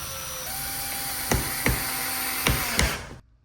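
A power drill driving 1-inch screws into a painting's floater frame, a steady motor hum punctuated by four sharp, evenly spaced clicks and knocks, close by, before the sound cuts off.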